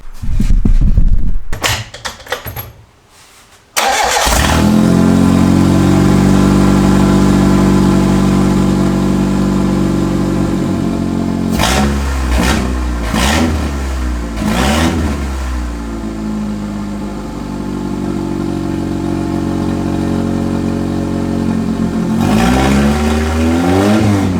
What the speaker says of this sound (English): So I'm going to turn the car on and we'll see what it sounds like.